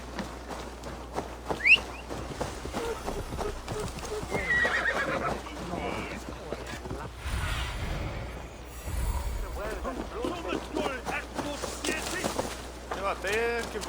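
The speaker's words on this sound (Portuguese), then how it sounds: "Eu até que ia chamar o cavalo, achei que ele tava mais longe" In the video game Assassin's Creed Valhalla, a horse whinnies loudly early on. Hooves clip-clop through the rest, along with some game ambience and another sound effect. People talk over much of it.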